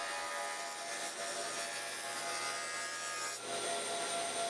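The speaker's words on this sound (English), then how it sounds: "I used the joiner to put 1 good edge on each piece." Jointer planing a wooden board edge flat for a tabletop skittles game, a steady loud whirring cut with a brief dip partway through, close by and without talk.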